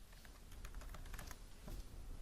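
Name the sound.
typing on computer keyboard in AutoCAD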